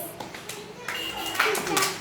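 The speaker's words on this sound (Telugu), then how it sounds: "క్లాప్స్." Children clap in a classroom in a short scattered burst, close by and mixed with some children's voices.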